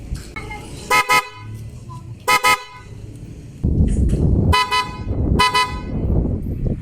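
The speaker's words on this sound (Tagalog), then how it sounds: "subukan naman natin kung anong tunog niyang busina na yun" A newly installed car horn on a Toyota Vios sounds in four short, loud bursts, each made of two quick toots. A running engine rumbles underneath the later honks.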